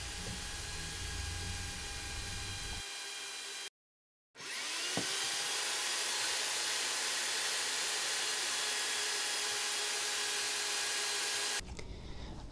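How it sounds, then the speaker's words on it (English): A power tool cuts metal stock for tiny V-blocks and securing bars on a bicycle seatstay miter fixture, a steady loud whirring drone that stops briefly, then spins back up and runs evenly before cutting off. "Now I'm cutting stock to make the four tiny V-blocks and two securing bars."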